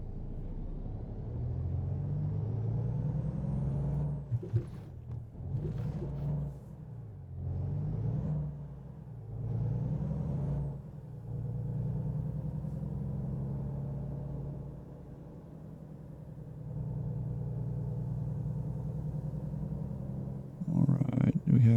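A truck pulls in inside American Truck Simulator, its engine a low, steady rumble that swells and dips as it slows and maneuvers, heard close and continuous.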